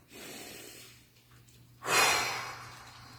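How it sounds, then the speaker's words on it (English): A single deep breath taken during a calm morning practice: a soft, drawn-out inhale near the microphone, a brief lull, then a louder, airy exhale that fades away. "Take your breath."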